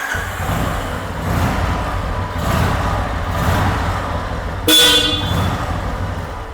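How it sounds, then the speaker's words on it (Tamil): A vehicle horn honks in short toots over a running engine and road noise, with one sharper, louder blast near the end. "ஸோ ஹார்ன்ஸ் எல்லாமே ஷார்ப்பாக இருக்கும்"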